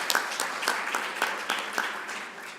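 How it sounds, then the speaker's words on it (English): A conference audience applauds, the clapping coming as fairly regular, moderately loud bursts that repeat through the short stretch in a large room. "we should give a round of applause"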